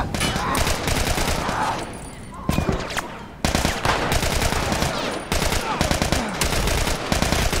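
Gunfire in The Last of Us during a fight at Saint Mary's Hospital, dense rapid bursts of close, loud shots broken by brief pauses, with a voice shouting over the action.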